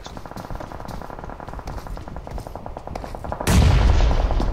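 Gunfire from a mobile battle royale game played on an iPhone 12 in a tournament round, with steady rapid shots throughout and a louder burst of firing near the end, under game noise.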